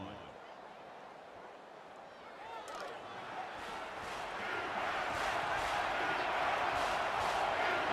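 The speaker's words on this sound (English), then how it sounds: "The crowd is always into it here." Stadium crowd in a CPU-simulated college football video game between LSU and Alabama, a steady roar that swells louder over the clip, with a commentator's voice talking over it.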